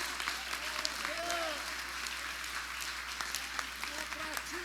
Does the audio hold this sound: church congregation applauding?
yes